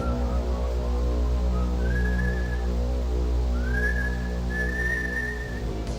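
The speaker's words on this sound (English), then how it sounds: "he always tormented his prey with this creepy whistle" A slow, eerie whistled tune, a few drawn-out rising notes over a low steady hum in the background.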